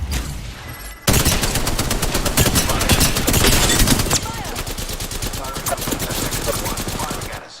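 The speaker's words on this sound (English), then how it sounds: "Getting shot at." Video game gunfire crackles in fast, loud automatic bursts after a quieter start, the rapid shots continuing almost without pause through the clip.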